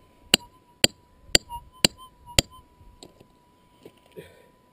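Mash hammer striking caprock during gold prospecting in Western Australia: five sharp, evenly spaced metallic cracks close to the microphone, followed by a few softer knocks and quiet rustling.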